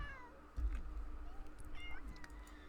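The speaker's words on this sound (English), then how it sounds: "The cats are adorable." Several cats meow in a life-simulation video game, The Sims 3, with a few short, rising mews spread across the stretch, soft and fairly faint over a low background.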